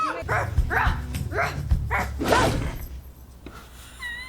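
A voice imitates a dog, giving a run of five or six quick barking yips in a steady rhythm, close and fairly loud.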